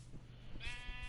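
A sheep in the Minecraft video game bleats once, a short nasal cry following some faint low thumps, fairly quiet and close.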